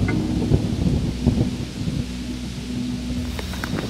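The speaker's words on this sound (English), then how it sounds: "So while rain is good for amphibians, it's not good for flat-footed primates with expensive cameras" Rain pours in the jungle with low rumbling thunder beneath it, a steady dense wash of drops and deep rolling booms. There are no voices.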